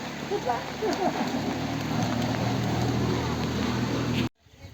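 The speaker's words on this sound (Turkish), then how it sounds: "Evet arkadaşlar yağmur yağdı." Steady rain patters across a broad hiss with low rumbling underneath over a garden, continuing evenly before cutting off abruptly near the end.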